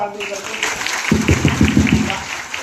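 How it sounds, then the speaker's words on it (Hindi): An audience clapping for an introduced guest, a short burst of dense applause under a voice speaking over it. "इनके लिए जोरदार ताली बजा"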